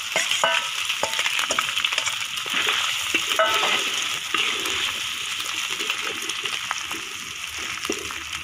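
Grated turmeric fries in ghee in a wok with garlic and ginger paste, giving a steady close sizzle and crackle under frequent scraping and stirring strokes.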